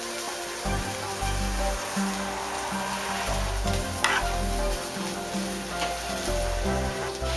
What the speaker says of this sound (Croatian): Sada pečeni lungić prebacimo na tanjur i prelijemo ga vrućim umakom.